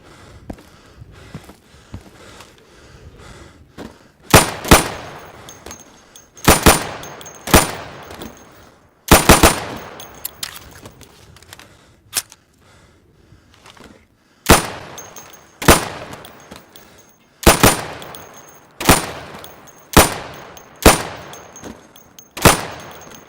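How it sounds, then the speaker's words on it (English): Sidearm pistol shots ring out at pop-up targets in the video game Insurgency, sharp loud cracks fired singly and in quick pairs at irregular intervals, each with a short echoing tail, and quiet shuffling between shots. "So you can shoot accurately over 20 feet with your sidearm"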